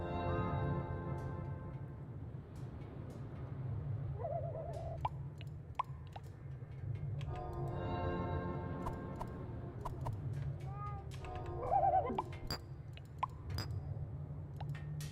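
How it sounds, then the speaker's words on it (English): Soft owl-like hooting from a creature in the video game Lucid Blocks comes in a few brief tonal calls spread across a quiet, humming game soundscape with occasional clicks. "It sounds like a owl."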